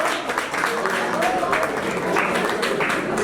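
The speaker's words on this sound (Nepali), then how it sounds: "प्लिज जोरदार तालीले उहाँलाई स्वागत गर्नुहोला।" Steady, dense applause from a seminar audience welcoming a speaker fills the room continuously for a few seconds, with speech mixed in.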